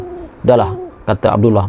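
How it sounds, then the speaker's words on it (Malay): An owl hoots in low, steady tones at night, with a voice narrating a horror story at a haunted boarding school over and between the calls. "Sekali-sekala dengar bunyi burung hantu yang menambah seramkan lagi keadaan."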